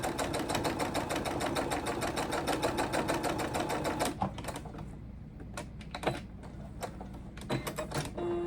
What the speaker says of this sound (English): Let's just sew this down real quick.